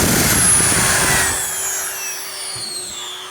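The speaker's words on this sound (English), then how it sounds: "The dust collection vacuum that I'm going to be using is a DeWalt HEPA-Vac" DeWalt HEPA dust-extraction vacuum running alongside a router cutting a window opening, a loud steady high-pitched whine and roar that starts strong then eases slightly but keeps droning throughout, with no talking.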